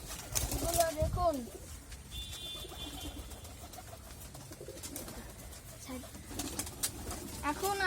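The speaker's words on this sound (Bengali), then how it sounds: "আমার কবুতরগুলো দেখুন" Pet pigeons coo in a home garden, several soft rolling coos close by in bursts near the start and end, with someone talking over them and quieter stretches between.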